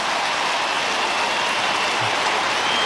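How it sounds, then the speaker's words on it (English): A big crowd at an AFL ground cheers for a West Coast co-captain after he kicks a goal against St Kilda, a broad sustained roar of applause and cheering, loud and steady across the whole moment. "Big cheer around the ground, and every player comes to him."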